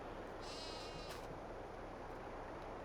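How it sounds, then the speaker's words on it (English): Sheep in the video game Farming Simulator 22 bleat clearly over a constant dense farm background, one call standing out early and then fading. "So we have our sheep."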